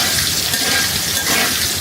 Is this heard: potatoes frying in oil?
yes